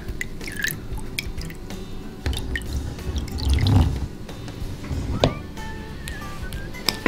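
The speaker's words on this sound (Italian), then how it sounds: "allora io mi sono armato di retino perché Mirtilla ha messo i nostri animali in acqua" Water dripping and splashing as a plastic toy turtle is scooped out of a tub with a small net, scattered close drips and a soft slosh midway, with no talking.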